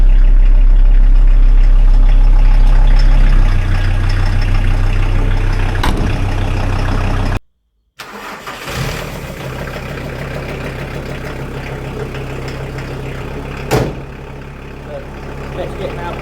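A VW T4 Syncro 4x4 single-cab pickup started by a push button and then idling, a loud low engine rumble with a brief cutout and a sharp start, then a steady idle with occasional knocks and a voice over it.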